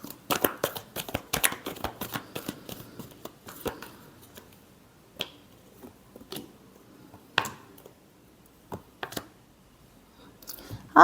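Tarot cards are shuffled by hand in quick, papery riffles and slides, busy at first, then thinning to scattered soft flicks with quiet gaps between them.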